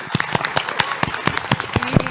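Audience applause at a PAX West panel on Game Boy Advance games: a crowd's clapping with sharp, distinct claps standing out over the dense patter, fairly close and steady, with faint voices underneath.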